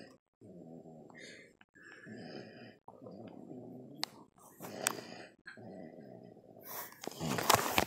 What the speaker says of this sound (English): What y'all hearing is a 2-year-old snoring like an old man.